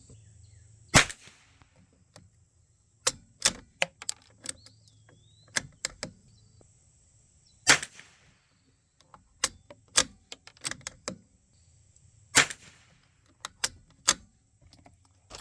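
Sharp rifle shots from a Savage MKII or Norinco JW-15 firing CCI Standard ammunition ring out one at a time at irregular intervals, each a crisp crack with a short tail, outdoors and without talk.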